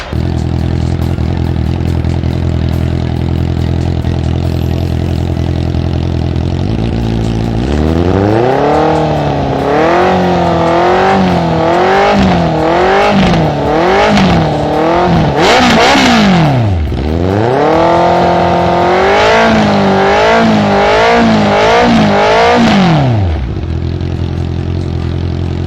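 A Honda CB650R motorcycle fitted with a Villain Hyper V2 exhaust canister idles close by, then revs hard in repeated rising and falling bursts before settling back to idle.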